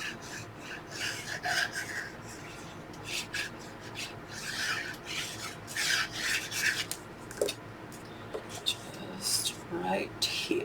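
Glued paper on a craft photo organizer is rubbed down firmly with a burnishing tool. Repeated dry rasping strokes come in short bursts, close and clear, and a quiet voice murmurs between them.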